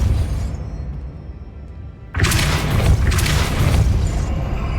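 A Depulso spell in Hogwarts Legacy erupts into a loud booming blast after a low rumbling lead-in, followed by a sustained roaring, crackling burst that fills the scene.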